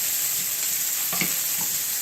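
Onions and plenty of garlic sizzle steadily in a hot pan with a constant close hiss, a couple of soft stirring scrapes breaking through partway, with no talk.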